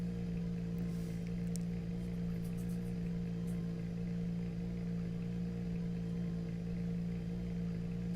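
Racing car engine from the Assetto Corsa Competizione sim, a steady sustained droning hum with a strong low tone throughout, constant and even with no voices over it.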